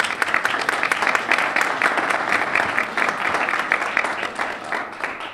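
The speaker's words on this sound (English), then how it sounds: "Let's give a round of applause for Congressman Boehner." An audience at a STEM and innovation welcome reception applauds a congressman, a sustained, even roar of many hands clapping close by for about five seconds.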